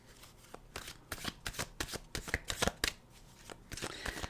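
A deck of tarot cards is shuffled up close in repeated riffling bursts, each a short crisp flutter, separated by brief pauses.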